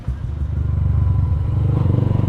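A motorcycle engine idles close by as it warms up, a loud steady low rumble with rapid regular pulsing throughout.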